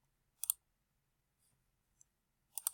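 Computer mouse clicks: a quick double click, a faint single tick and then a short burst of several clicks, crisp and close in a quiet room.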